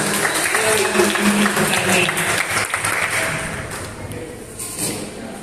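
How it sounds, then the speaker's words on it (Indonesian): Audience clapping for a wall magazine competition presentation at a parish event, a dense wash of applause that stays fairly steady, then thins and softens toward the end with some background voices mixed in. "Tepuk tangan bersama rekan kamu."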